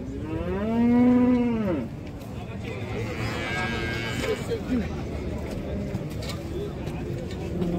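Young bull calves, around nine to ten months old, at a livestock market: one loud, drawn-out moo rings out near the start, followed by steady crowd murmur and scattered voices.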